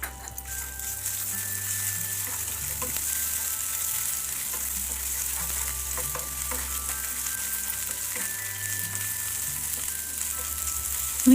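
Ginger garlic paste sizzles steadily in a pan while chole masala is being made, with occasional soft stirring scrapes sounding over the continuous, gentle frying hiss.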